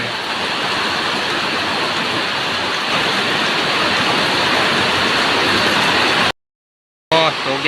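Heavy summer storm rain pours down in a loud, dense, unbroken hiss for several seconds, then cuts out abruptly before a brief return.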